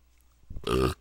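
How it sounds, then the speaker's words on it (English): A single throaty burp after a meal of fish and chips: a short grunt-like lead-in, then a loud, drawn-out croaking belch close to the mic, about half a second long, alone with no talk. "So you're gonna be hearing a lot of burping."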